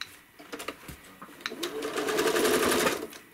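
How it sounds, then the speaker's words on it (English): A home sewing machine stitching through quilt batting: a few scattered clicks and taps, then the motor whirs up into a steady, fairly close stitching hum. "Now I can start stitching in the batting again."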